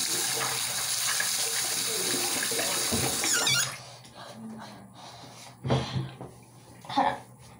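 Water runs from a sink tap for face washing in a steady gush for about three and a half seconds before shutting off, followed by quieter splashes, rubbing and breathing.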